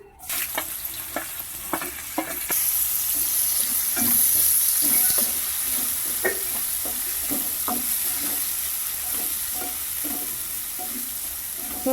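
Chopped onion, green chili and tomato pieces sizzle in hot oil for an okra curry, with a steady frying hiss and repeated scraping stirs of a spatula, close and continuous.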